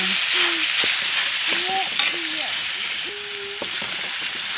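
Banana heart sautéing in a pan: a loud, continuous sizzle and frying hiss with faint stirring knocks and tonal squeaks throughout, close up.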